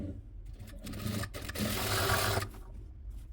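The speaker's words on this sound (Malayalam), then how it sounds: "നമ്മൾ സ്റ്റിച്ച് ചെയ്യുമ്പോൾ ഒന്ന് ലോക്ക് ചെയ്ത് തയ്ച്ചിട്ട് സ്റ്റാർട്ട് ചെയ്യുക" A sewing machine stitches fabric for a hair scrunchie, running in short bursts then a steady whirring run of about a second, close and fairly quiet, with no speech.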